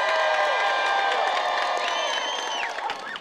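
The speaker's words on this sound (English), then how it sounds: "Give him a big cheer." Crowd in Sydney cheers for a boy dressed as superhero Iron Boy, a loud, sustained wash of shouts and whoops that fades slightly toward the end.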